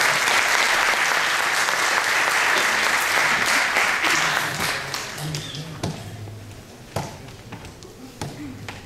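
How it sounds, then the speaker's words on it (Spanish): Festival audience at the 24th Viña del Mar Film Festival applauds a film screening with dense, loud clapping that thins after a few seconds into scattered claps, with voices talking faintly beneath. "Un aplauso para que puedan pasar."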